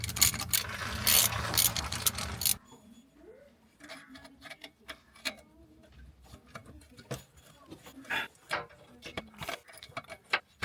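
A ratchet wrench with a deep socket works an alternator bolt loose on a Ford Transit Connect, giving close, crisp clicking in short irregular bursts after a loud, dense clatter at the start.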